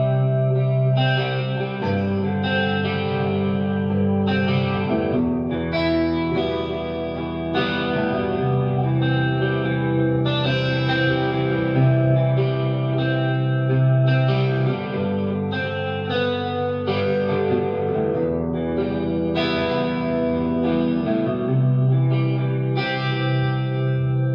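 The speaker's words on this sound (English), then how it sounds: "let me turn on a chorus" Electric guitar through an MGL50 HG amp with a shimmering, wavering chorus effect, playing clean arpeggiated chords and melodic lines continuously at steady volume.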